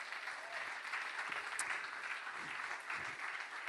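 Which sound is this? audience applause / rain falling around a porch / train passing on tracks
audience applause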